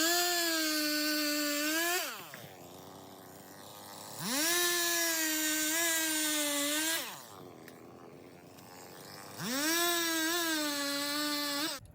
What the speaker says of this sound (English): bust up the chainsaw and give this fence a little haircut